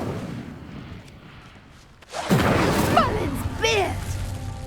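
An Incendio fire spell in Hogwarts Legacy ignites a pyre with a sudden rushing whoosh and crackling roar after a quiet start, then the flames keep burning loudly. A voice speaks over the burning.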